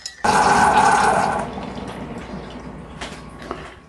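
A coffee pod machine finishes brewing a cup with a loud, close gurgling hiss that fades after about a second into softer dripping and trickling. A few faint clicks follow.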